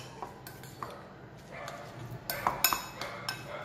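Chopped capsicum, onion, carrot and coriander tossed together in a bowl, heard as soft scraping broken by light spoon clinks against the rim, louder and busier toward the end.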